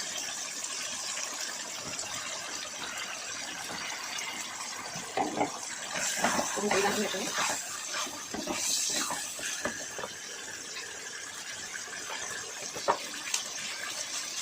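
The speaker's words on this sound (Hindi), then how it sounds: "ये बड़े वाले मिर्च को वॉश करूँगी" Large chili peppers are washed under a running tap, giving a continuous splashing gush of water that swells and shifts as they are rubbed and turned by hand, with no talking.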